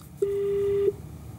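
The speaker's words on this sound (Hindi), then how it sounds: "फोन कट गया।" A single steady electronic tone sounds clearly for under a second as a phone call cuts off, standing alone over a faint hiss of background noise.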